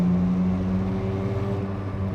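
A 1985 Mazda RX-7 FB with a rotary engine drives along at moderate speed, giving a steady, even engine hum with a sustained low tone heard from inside the cabin, no revving spikes.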